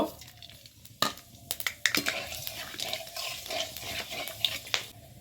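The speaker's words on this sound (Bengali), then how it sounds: "তেল গরম হয়ে গেছে বন্ধুরা, এখন আমি ফোড়ন দেব।" Whole spices crackle and sputter as they hit hot mustard oil for a small rohu fish curry, with sharp pops and stirring clatter over a steady hiss, close and fairly loud.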